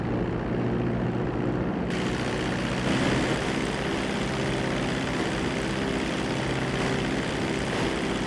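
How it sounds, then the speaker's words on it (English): Airplane engine in a GTA roleplay game, a loud continuous propeller drone with steady low hum, shifting slightly in tone partway through, with no talk over it. "Park the plane."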